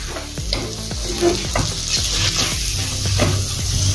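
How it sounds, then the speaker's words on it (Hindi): Biryani masala being stirred into a frying chana dal pulao mixture in a pan, loud close sizzling with quick, regular spoon scrapes and knocks against the metal, no voices. "अभी इसमें हम बिरयानी मसाला डालेंगे।"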